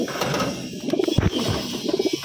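Pigeons at a pigeon show or ring event coo in short repeated pulses, close and moderately loud, over a background of room noise with a few faint chirps.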